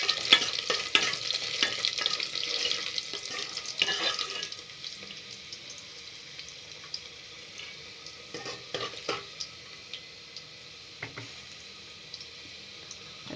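Ground sambar paste of tamarind, garlic and sambar powder frying in a pan, a sizzling hiss that is strongest at first and then fades, broken by spoon scrapes and clicks against the metal.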